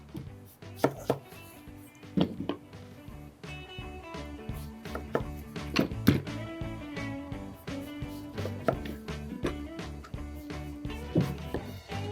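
Knife chopping a watermelon on a cutting board, a steady run of sharp, close knocks and cuts with uneven rhythm and no voices.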